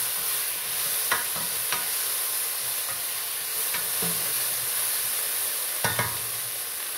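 Sardines and pechay sautéing in a pan, a constant sizzling hiss broken by a few sharp clinks of a utensil stirring against the pan.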